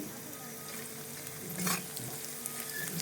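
Onions and green chillies stir-frying in a pan for vegetable pulao, a continuous close sizzle with a louder stirring scrape partway through.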